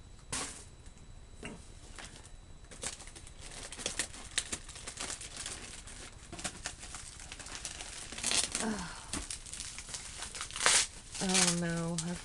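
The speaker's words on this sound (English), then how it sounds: "I forgot about this noisy ass" Crinkly sticky paper rustles and crackles in bursts as it is peeled and handled up close, with a voice speaking at moments.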